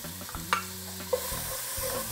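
Chopped onion sautés in a pan with a constant crackling sizzle. A couple of short metallic scrapes and clinks from stirring cut through, over a low steady hum of background noise.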